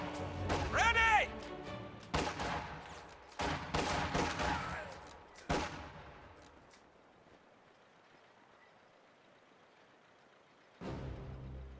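Gunfire in a video game battle between Soviet and German forces: loud bursts of shots and crashes come in clusters over the first six seconds, then a lull of low rumble before another sharp burst near the end.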